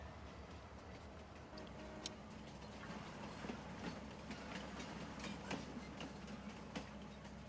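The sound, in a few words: train running on tracks in Farming Simulator 19 video game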